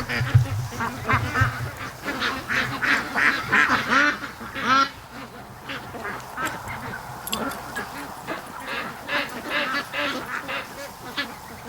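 A goose honks among quacking ducks near a swamp, the calls coming close and loud in clustered bursts over the full length, with a faint voice briefly in the background.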